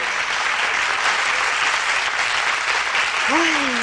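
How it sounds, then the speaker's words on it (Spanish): A live studio audience at a Spanish cooking-themed film show claps steadily and loudly, a thick continuous wash of applause, with a brief whistle or vocal whoop rising near the end. "Estáis aplaudiendo mucho hoy."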